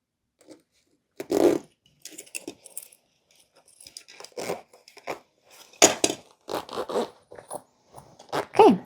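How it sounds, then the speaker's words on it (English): Metal zipper teeth rattle and scrape as a zipper is handled and lined up on a handmade crescent moon sewing bag, a series of close, irregular clicks and short zips separated by pauses. "I have that centered now on the zipper like this, and all the zipper teeth are closed together"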